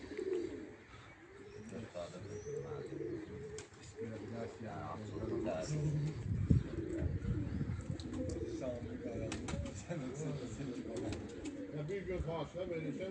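Racing pigeons cooing at the loft, low murmuring coos mixed with wing flutters and scattered chirps, while someone talks over them throughout.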